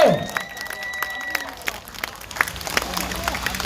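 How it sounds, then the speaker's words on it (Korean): Scattered crowd clapping at an outdoor political rally, a loud burst at the start then uneven claps and murmuring voices, with some talk mixed in. "마지막 박수 한번 크게 쳐주세요."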